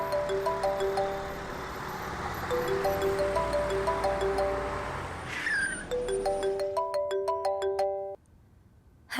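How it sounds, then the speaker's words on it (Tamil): A mobile phone ringing with an incoming call, a repeating melodic ringtone playing steadily over a car's engine hum for about eight seconds before it stops abruptly. "திவ்யா ஃபோன் பண்றா"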